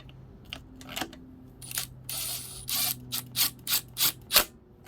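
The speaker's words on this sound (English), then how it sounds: "now I'm going to start a couple of screws" Screws being started by hand while reassembling a Kawasaki KE100 clutch: a quiet series of short metallic clicks and scrapes, several quick taps toward the end, close up, with no talk.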